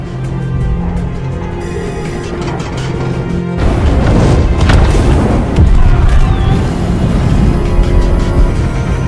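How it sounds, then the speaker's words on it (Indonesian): Oil and gas blow up in a film scene, a sudden loud boom that becomes a sustained, rumbling roar of fire and debris after a quieter start. "minyak dan gas yang berada di tempat tersebut telah meledak kena pertempuran pertama"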